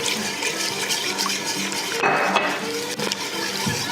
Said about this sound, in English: Just wanna continually whisk it.